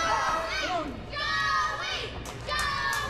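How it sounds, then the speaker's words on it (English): An arena crowd at a wrestling match cheers and shouts for wrestler Joey, with a steady roar and excited voices swelling in waves at fairly close range. "Joey getting some cheers here from the crowd"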